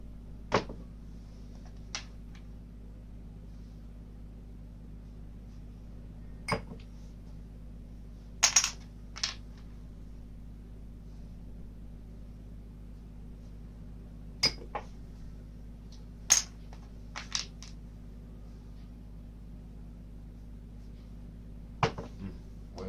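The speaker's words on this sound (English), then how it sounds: "We're going to throw 30 dice." Dice are thrown for craps dice-control practice, making sharp, scattered clattering hits at irregular intervals over a low, constant hum, with quiet gaps between throws.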